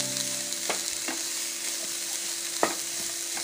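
Chopped cabbage and onion filling for chicken kachori fries in a pan, a soft steady sizzle broken by a few scraping stirs, one louder clack near the end, with no talking.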